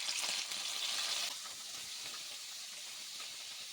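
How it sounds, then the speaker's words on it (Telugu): Curry leaves frying in a spoonful of hot oil for a cabbage fry, giving a loud, dense sizzle and crackle that is strongest at first and then settles into a steady, slightly softer hiss. "కరేపాకు బాగా వేగింది కదా"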